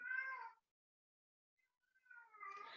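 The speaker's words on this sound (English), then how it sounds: "That's really my cat." Two clear cat meows with a quiet pause between them, the second drawn out and rising, close by with no other sounds.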